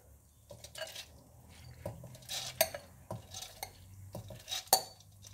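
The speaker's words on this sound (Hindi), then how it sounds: "ये दाल मैं इसमें डाल दूंगी." Soaked moong dal is scooped into a mixer jar, with soft wet plops and scattered clinks of a spoon against the jar, fairly quiet.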